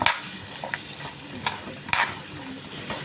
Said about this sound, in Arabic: وهننزل بقى ايه البصلة وتوم وقرن الفلفل القمر ده هنحطه عليها. هنشوحها طبعا كده